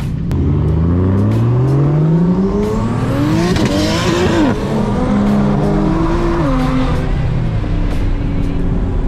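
A car engine revs hard and loud with tires squealing continuously during a burnout, pitch sweeping up and down as the wheels spin throughout.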